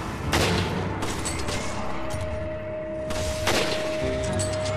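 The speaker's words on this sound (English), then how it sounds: "They're firing at you," Enemies open fire in Resident Evil 5 co-op play, with two sharp bursts of gunfire about three seconds apart over a continuous background hum.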